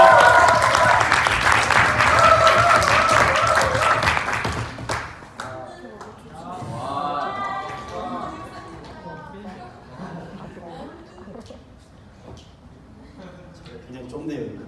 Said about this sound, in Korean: 이분 우리가 모실 때 큰 박수로 환영해 주시기를 바랍니다